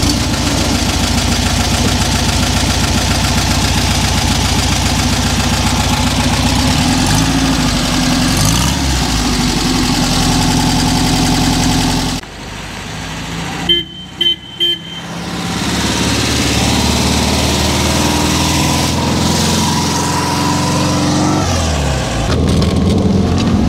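A Volkswagen Combi Split van's engine hums steadily while driving, then drops away into quieter road noise with a few brief knocks before the engine drone returns.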